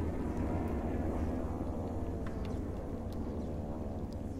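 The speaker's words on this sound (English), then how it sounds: "Oh, there's a plane." An airplane flies overhead in the video game Dying Light: The Following, a steady low rumbling drone holding at even loudness throughout, with faint higher clicks and ticks over it and no talk.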